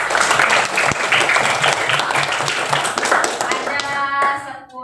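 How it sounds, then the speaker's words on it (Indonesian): A classroom of young pupils claps for the winners, with dense, loud applause filling most of the moment before it breaks up into scattered claps and quickly fades near the end. "Tepuk tangan yang menang."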